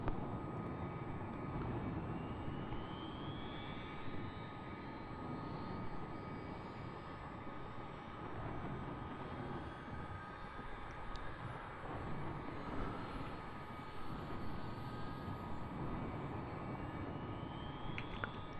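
An aircraft engine, the first of two on a pilot's engine start, spools up and settles into a steady, loud whine that holds throughout with no talking, over a constant roar of background ambience.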